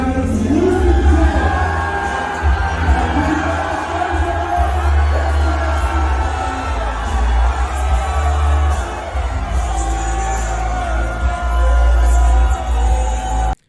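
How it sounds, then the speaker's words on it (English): A large crowd roars continuously with cheers, whoops and shouts, some boos mixed in, as a figure walks out; the dense, loud din holds steady throughout. "I'm not saying I don't hear boos, but I'm seeing a lot of people cheering, and I'm hearing a lot of like positive cheering."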